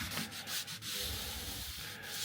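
A car roof is sanded smooth before wrapping, producing continuous close scratchy rubbing strokes with brief pauses and no voices.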